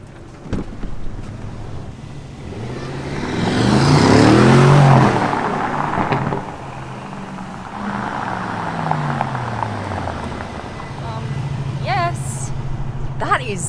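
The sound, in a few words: Aston Martin SUV accelerating on drive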